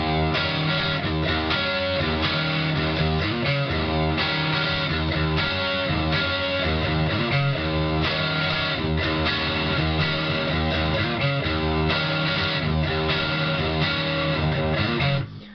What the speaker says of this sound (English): this is the sound of just the humbucking pickup with the Fender combo out of the G3